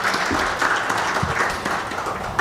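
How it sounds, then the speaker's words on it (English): Applause from an audience at a legal education conference as a panelist walks to the stage, a steady wash of clapping holding at even level across the short span with no voices standing out. "Let's clap for her as she goes to the stage."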